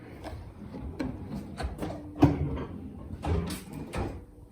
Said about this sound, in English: these like no slam drawers are just amazing